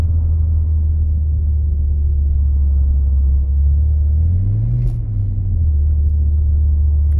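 A BMW in third gear labors up a snowy hill on a winter night, its engine a loud, close, low rumble that rises and falls as it barely moves, with no talk over it.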